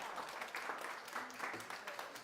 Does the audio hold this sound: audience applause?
yes